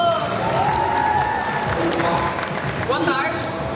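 Audience applause at an interview panel with national manga authors, steady clapping that fills the clip with voices and whistles mixed in.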